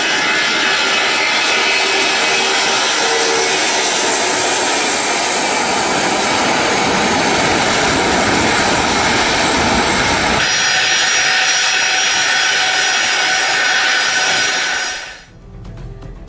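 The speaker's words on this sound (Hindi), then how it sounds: "रूस ने अपना बेहद सुरक्षित डूम्सडे प्लेन तेहरान भेजा है" Russian doomsday plane's aircraft engines roar loud and steady for about fifteen seconds, a broad jet rumble with a slight shift partway through, then fading abruptly at the end with no voices.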